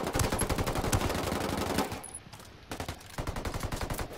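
Rapid automatic gunfire in Ghost Recon Wildlands, dense bursts of close, loud shots that pause briefly before resuming in shorter rattling volleys.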